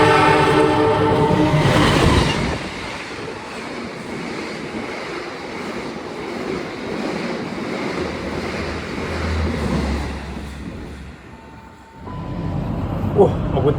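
The Argo Dwipangga train roars past at speed on track 2 of a station in Indonesia, a loud rush of wind and rumbling wheels that fades after several seconds.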